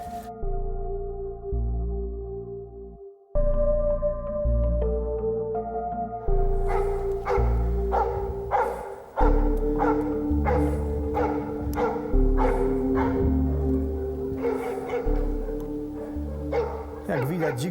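A Polish hound barks repeatedly at a wild boar in a training pen, loud close barks and yelps in quick bursts, with someone talking over them.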